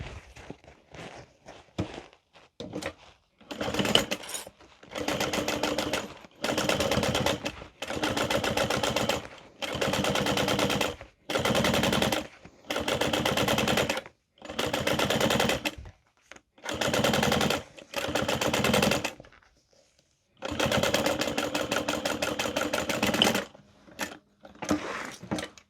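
A sewing machine top-stitches through the folded lining and seam allowance of an Everyday Tote laptop bag, running in loud, close bursts of rapid stitching separated by short pauses, with a longer stop near the end.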